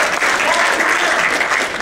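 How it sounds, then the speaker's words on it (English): Steady, dense applause from an audience at a community gathering, loud and continuous throughout with no pauses. "Let's give them a round of applause."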